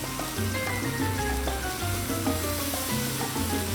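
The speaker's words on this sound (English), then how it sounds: "Get it nice and medium for this bacon. And you can hear that sizzle." Steady crackling sizzle of bacon frying on a Blackstone 22-inch griddle, continuous and fairly loud, with faint clinks and tonal background hum underneath.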